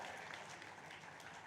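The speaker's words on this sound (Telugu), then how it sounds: "మీకోసం ఒక పెద్ద చప్పట్లు మీకోసం" An audience at a meditation gathering applauds, a steady, dense patter of many hands clapping at once, even and sustained, heard faintly.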